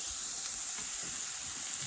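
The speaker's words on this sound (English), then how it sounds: "I'm going to add it into our fry pan." Chopped onion sizzling steadily in hot oil in a fry pan, a continuous bright crackling hiss with no talking, for a homemade ramen dish.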